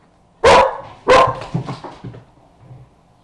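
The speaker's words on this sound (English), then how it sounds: "Sorry, that's my dog." A dog barks twice in quick succession, loud and close, followed by a few softer yips and whimpers in an otherwise quiet indoor room.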